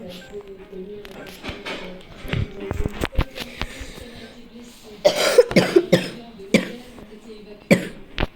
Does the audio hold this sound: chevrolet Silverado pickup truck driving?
no